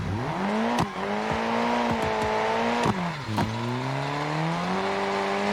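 Drift car engine droning steadily at high revs while driving, with pitch rising and falling through gear changes and a few sharp clicks, loud and continuous throughout.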